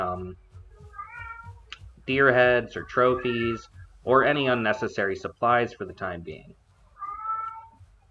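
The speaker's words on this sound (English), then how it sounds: "Now currently you may hear a cat in the background." A cat meows softly in the background, brief high calls near the start and end, while someone talks steadily over it in the foreground.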